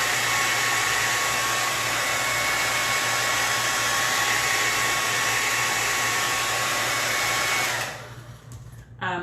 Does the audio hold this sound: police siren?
no